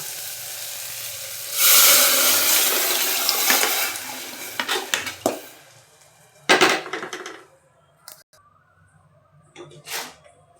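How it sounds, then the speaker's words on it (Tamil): Water is poured from a tumbler into a pot or pressure cooker of rice in a home kitchen, making a few seconds of loud splashing, then scattered clinks and short splashes. "ஒரு டம்ளர் அரிசிக்கு ரெண்டு டம்ளர் தண்ணி ஊற்றி எடுத்து ரெடியாக வச்சுருக்கேன் இதை வந்து நம்ம அதில் ஊற்றிக்கலாம்"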